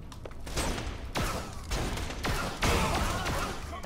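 Gunfire in the shooter Borderlands: The Pre-Sequel rattles off in several quick sharp bursts, loud and punchy with crashing impacts between them, over a couple of seconds of busy combat.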